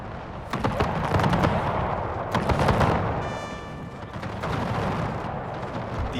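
Battlefield combat in a Napoleonic-era strategy game, with cannon firing canister shot amid rolling gunfire: dense, sustained crackling volleys and heavy booming reports, loud and continuous with a brief ringing tone partway through.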